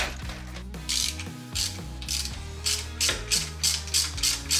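A ratchet wrench clicks in quick bursts of rapid pawl ticking while removing an engine crankcase breather, close and distinct over a low steady engine-bay hum.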